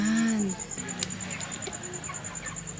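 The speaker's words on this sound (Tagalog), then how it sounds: "Yan yung mga manok nila, oh." Farm chickens cluck close by, with one loud call at the start and softer clucks and scratching after it. The birds are being raised for sale at about 45 days old.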